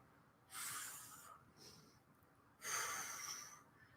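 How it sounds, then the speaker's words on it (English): Two long, breathy exhalations during a Pilates exercise, each a rushing hiss of air lasting under a second, with a fainter breath between them in a quiet room. "Exhale and inhale."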